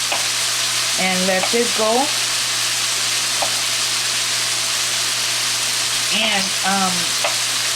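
Shrimp and fried rice sizzle steadily in a pan as they are stirred, a constant hissing fry heard close, with a person speaking briefly over it.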